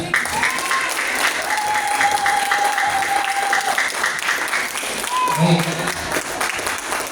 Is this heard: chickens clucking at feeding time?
no